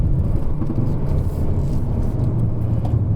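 A Hyundai i30 N's engine drones steadily under load on a hillclimb drive, a loud, even low rumble with road and cabin noise and no clear rev change.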